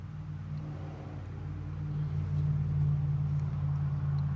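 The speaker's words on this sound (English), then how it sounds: "As soon as that truck goes by." A truck passing nearby, a low engine rumble that swells and grows louder toward the end, with no talking.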